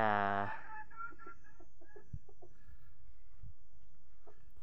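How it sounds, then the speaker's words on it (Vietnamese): Hybrid F1 jungle-fowl chickens, hens and a rooster being let out of a small coop at a farm, giving soft scattered clucks and short calls at close range, with a brief louder call at the start and a quiet background. "Đây mình sẽ thả 2 con mái là mình nhốt sáng trong cái chuồng bé bé con kia nhá"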